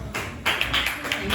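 Clapping from an audience welcoming a woman guest comes in dense bursts, moderately loud and close, with a brief voice near the start before the applause swells.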